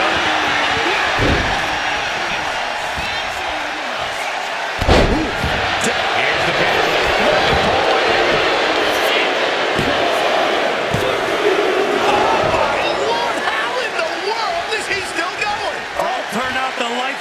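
A large arena crowd in the WWE 2K25 wrestling video game roars steadily, with occasional slams from the ring, all under continuous commentary.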